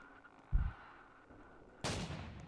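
Gunfire in a horror survival video game set in a locked-down mega store: one short low thump, then a sharper, brighter blast with a lingering tail about a second later, both moderately loud against a quiet background.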